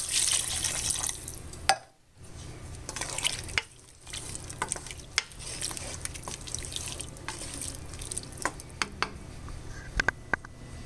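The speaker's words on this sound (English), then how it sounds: "I filled this chicken broth can up with some water, so I'm adding another can of water" Water from an emptied chicken broth can poured and splashing into a pot of simmering red beans, with drips and stirring clatter and a steady bubbling background.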